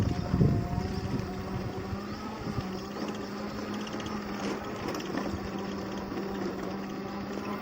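A Hero Honda Splendor converted from petrol to electric drive on a short test ride, giving off a steady electric motor hum with a continuous rush of wind and road noise and a slightly louder burst at the start.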